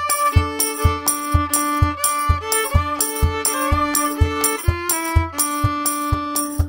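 A song track with a vocal part, shaped by volume automation in GarageBand, plays as steady full-band music with a regular thumping beat under sustained melodic lines that shift pitch, and no talking over it.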